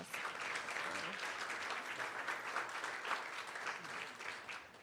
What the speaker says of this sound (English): Let's give him a great big round of applause.